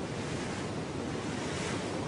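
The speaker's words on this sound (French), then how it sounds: "Le vent de terre s'est levé et pousse en douceur les voiliers des pêcheurs vers le large." Off the Kerkennah Islands of Tunisia, a land wind blowing out over the sea toward fishing sailboats makes a dense, steady roar of wind and surf, loud and unbroken, with no voices.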